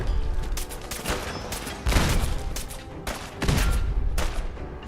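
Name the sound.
gunfire in the video game Fallout 4 with Sim Settlements 2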